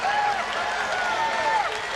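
A stadium crowd at a 1990 5000 m track race applauds and cheers steadily in the distance while a commentator talks over it.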